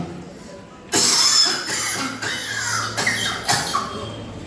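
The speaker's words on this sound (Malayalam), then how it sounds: "കുറച്ചു ദിവസമായിട്ട് തുടങ്ങിയ ചുമയാ" A few sharp, raspy coughs in quick succession, close and fairly loud, with short pauses between them.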